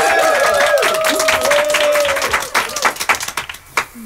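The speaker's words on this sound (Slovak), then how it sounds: "Za váš potlesk. Bol krátky, ale intenzívny." Audience applause at a Christmas double concert, dense clapping filling the room with a sustained musical tone fading beneath it, then thinning into scattered claps near the end.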